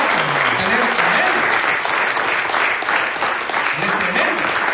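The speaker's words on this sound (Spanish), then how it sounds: "Aquí le doy un aplauso a Dios." A church congregation breaks into sustained, loud applause, a dense clatter of many hands, while a voice carries over it and cheers rise around him.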